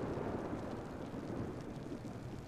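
Steady rain and a low rumbling thunderstorm in the game ARK: Scorched Earth, a dense, continuous wash of noise with no voices.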